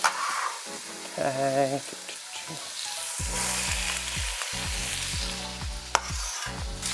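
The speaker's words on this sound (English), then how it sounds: "I love that sizzle." Steady frying sizzle of peppers and onions in hot oil, with stirring and clattering, and a brief spoken word near the end.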